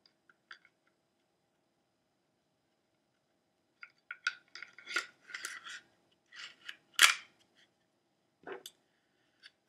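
Metal parts of an H&K USP 9mm pistol being fitted back together, giving a scatter of short, sharp clicks and scrapes, a couple early then a denser cluster of close taps and snaps in the latter half, with no talking.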